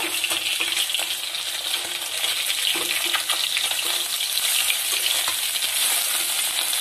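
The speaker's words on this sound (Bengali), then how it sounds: "ভাজা করছি মাছটা।" Pieces of bata fish sizzle steadily in hot oil in a pan while being fried for a mustard-poppy seed curry, with a continuous close crackle and occasional soft clinks as the fish is turned.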